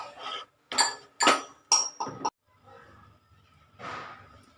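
Coconut ladoo mixture stirred in a metal pan, heard as a run of sharp spoon-on-pan scrapes and knocks in quick bursts, then a pause and one softer scrape.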